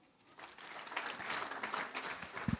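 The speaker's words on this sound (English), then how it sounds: "Let's clap for them." Audience applause at a researchers–investors summit on agri-research: a soft, distant wash of clapping from the crowd that swells slightly and continues throughout.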